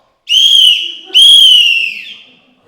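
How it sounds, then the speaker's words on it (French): A whistle blown twice as a signal, two loud shrill blasts close by, the first short and the second longer and trailing off. "tu siffleras 2 coups"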